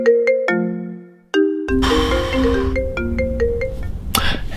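A melodic phone ringtone of an incoming call, bright chiming notes playing in a repeating pattern, pausing briefly, then resuming over a fuller backing with clicks at the end.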